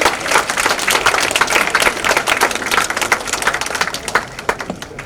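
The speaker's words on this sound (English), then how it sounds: "Can we have a huge round of applause for them" An audience at a college trophy event gives a round of applause for an organizing committee, a loud, dense wash of many hands clapping that runs the whole time with no talk.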